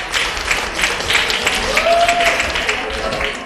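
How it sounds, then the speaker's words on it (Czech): An audience at a Prague robotics competition claps, with a busy, moderately loud patter of hands running throughout and voices mixed in beneath it. "myslím si, že si zaslouží potlesk"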